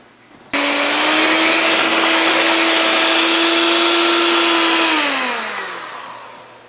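Electric hand mixer beaters whirring through mashed potatoes, a loud steady motor drone that starts abruptly, holds, then winds down as the pitch drops, with no talking.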